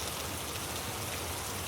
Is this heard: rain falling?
yes